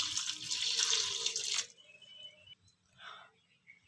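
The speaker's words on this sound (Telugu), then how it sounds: "దీనిలోకి 1 గ్లాస్ వాటర్ పోసుకుందాం." A glass of water pours into a pressure cooker holding fenugreek-leaf dal, a loud close splash for over a second, then stopping, with faint drips and small rattles afterward.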